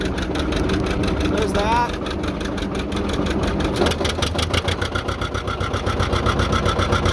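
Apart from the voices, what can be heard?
John Deere 830 Industrial tractor engine starting and idling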